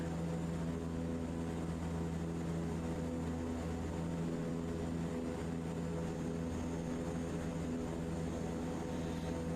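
Propeller aircraft engine in Microsoft Flight Simulator 2024 holding a steady set throttle on approach to a wildfire, a continuous loud, even drone with no variation and no voices.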